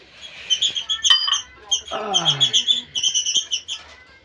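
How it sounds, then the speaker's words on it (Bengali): Several birds chirp and squabble noisily close by, with bursts of high, rapid tweets and calls running through most of the moment, outside during tea being poured. "পাখিগুলো না এত চেঁচামেচি করছে না"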